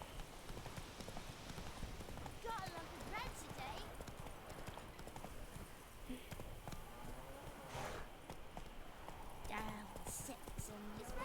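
Hooves of a ridden horse in a Witcher video game, a steady quiet clopping running the whole time beneath game music and ambience, with occasional voice fragments.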